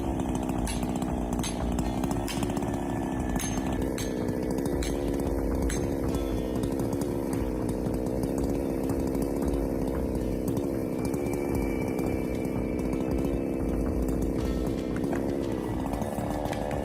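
A chainsaw cutting a tree runs continuously at high, steady revs, a loud buzzing engine drone close by that holds almost unchanged throughout, with no voices.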